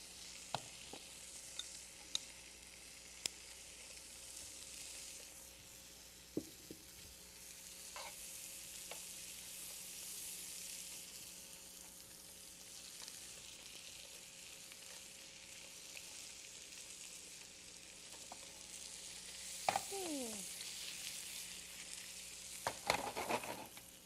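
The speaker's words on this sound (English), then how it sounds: "we will pan sear the dumplings itself." Dumplings pan searing in a pan, a faint, steady sizzle that carries on throughout, with a few clinks and utensil knocks here and there and a louder clatter near the end.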